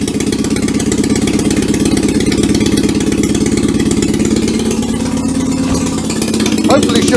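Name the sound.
Citroen 2CV engine running without exhaust, loud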